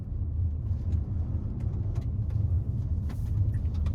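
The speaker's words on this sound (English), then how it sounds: "as I hit the accelerator, it gives me the torque I need on both sets of wheels." A 2021 Toyota Venza Limited accelerates on the road, with a steady low engine and road rumble from inside the cabin, plus a few faint clicks and rattles.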